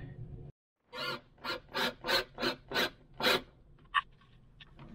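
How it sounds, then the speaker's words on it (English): A screw is driven in on a sailboat during a solar panel install, a rhythmic rasping rub repeating about seven times in quick succession, close and fairly quiet, with a brief pause before it starts. "now let me just screw this in"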